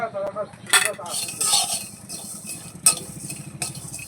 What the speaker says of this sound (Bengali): বাদাম ভেজে নেব একদম হালকা হাতে ভাজতে হবে